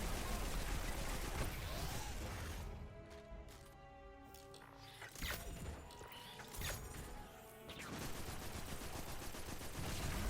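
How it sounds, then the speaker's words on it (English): Auto rifle fire in the shooter game Destiny 2, loud sustained bursts of rapid shots with crashing impacts, easing briefly in the middle and then resuming at full intensity. "I decided just to try to kill it with auto rifle."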